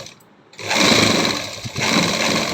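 A sewing machine stitches around a halter neckline, its motor starting after a short quiet moment and then running in a fast, continuous buzzing whir at close range.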